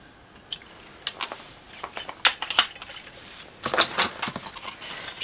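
Snipping component legs off a soldered thermostat board for a heat mat, with a string of sharp metallic clicks and small ticks spread unevenly, some louder snaps near the end, close and alone.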